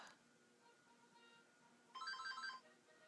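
A house phone rings in a quiet room, a short burst of bright electronic warbling tones lasting about half a second, clear and fairly close against near silence.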